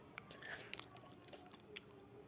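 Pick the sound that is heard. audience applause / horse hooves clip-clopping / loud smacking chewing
loud smacking chewing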